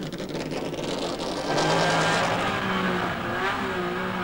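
1993 Honda NSX race car lapping the Spa circuit from onboard, the engine droning loud and close, rising in pitch as it accelerates through the gears.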